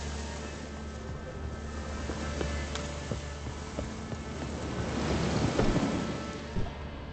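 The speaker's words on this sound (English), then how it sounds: "Looks like rain." Steady rain and distant rolling thunder in a fantasy game world, a constant wash of rainfall with a heavier rumble swelling near the end.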